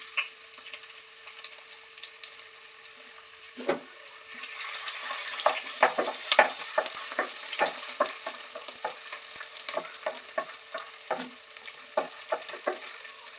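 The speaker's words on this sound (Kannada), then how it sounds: "ಬೆಳ್ಳುಳ್ಳಿ ಶುಂಠಿ ವಾಸನೆ ಹೋಗೋ ತನಕ ಫ್ರೈ ಮಾಡ್ಕೊಂಡು" Garlic and ginger fry in oil with garam masala spices such as cinnamon, a steady sizzle under repeated scraping stirs that grow more frequent and rhythmic in the second half, close and clear with no talking.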